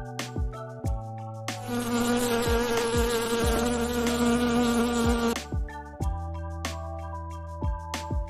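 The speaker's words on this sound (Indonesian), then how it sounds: "Tawon." A loud, close wasp buzz drones steadily for several seconds among scattered clicks and taps, then cuts off abruptly.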